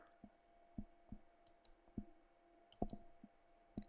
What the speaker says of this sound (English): I'm just going to click here